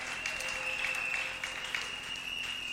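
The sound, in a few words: church congregation applauding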